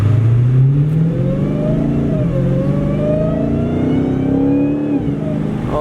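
Brand-new Dodge Challenger Hellcat fitted with a Legmaker intake, revving loud and close, its engine note climbing and dipping under a steady, rising supercharger whine, with no talk over it.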